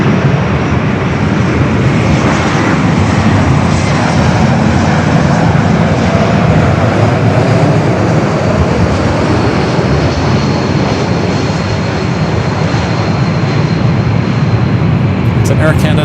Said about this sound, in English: It's an Air Canada Airbus